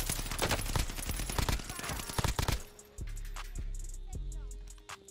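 Gunfire in the Warzone video game rattles in rapid bursts, dense and loud, then gives way to a few isolated, separated shots over a low hum.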